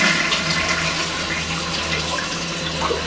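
Steady rushing wash of a toilet flushing, loud and continuous for the whole stretch with no talk over it.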